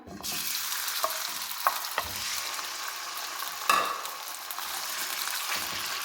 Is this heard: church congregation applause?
no